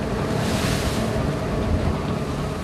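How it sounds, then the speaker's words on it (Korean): Rough sea waves splash and surge around a fishing boat working crab-pot lines off Ulleungdo, with steady wind roar mixed in; the wash stays loud and continuous with no voices. "파도까지 무섭게 뿌려대니 작업은 배로 힘이 듭니다"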